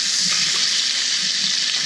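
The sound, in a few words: trout frying in a pan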